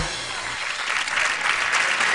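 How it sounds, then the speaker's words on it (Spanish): A studio audience claps for contestant Clarissa, steady dense applause that swells slightly and holds throughout, fairly loud and close, with no talking. "Que se escuche el aplauso para Clarisa"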